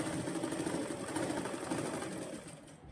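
A sewing machine runs steadily while stitching a shoulder-to-waist dart on a blouse, a continuous close whirring hum for nearly three seconds that tapers off at the very end, with no talking.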